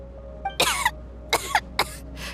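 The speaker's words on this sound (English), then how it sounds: "How long have you had that cough, Tonya?" A character in Genshin Impact coughs in a series of four or five sharp, close, harsh bursts with short gaps between them, heard on their own.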